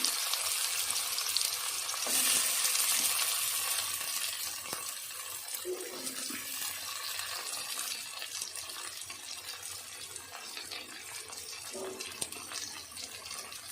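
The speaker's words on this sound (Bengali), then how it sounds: "দিয়ে একটু পেঁয়াজ রসুন ভেজে নিই হালকা করে" Onion and garlic fry gently in oil with black cumin seeds, producing a steady, broad sizzling hiss that swells early and then settles into a softer, even crackle.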